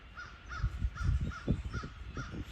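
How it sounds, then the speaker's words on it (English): Crows caw in a rapid series of harsh, repeated calls at moderate distance outdoors near home, with wind noise rumbling beneath them. "Hear the crows hollering."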